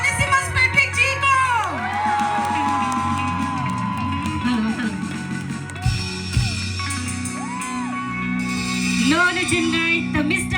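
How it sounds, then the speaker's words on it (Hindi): At a live concert by Nicobarese performers, a crowd cheers, whoops and shouts loudly and continuously, with rising and falling yells over a busy background din. "जोरदार तालियों के साथ स्वागत कीजिए"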